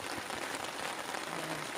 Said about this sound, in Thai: ฝนมาแล้วครับนะนะครับ